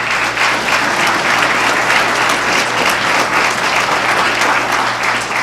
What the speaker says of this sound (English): Let's give each and every one of them a round of applause.